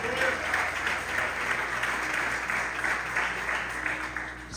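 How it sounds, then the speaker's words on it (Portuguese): A congregation at a family worship service claps warmly and continuously, with a broad, rolling wall of applause and scattered voices blending underneath from start to finish. "Pode aplaudir aí."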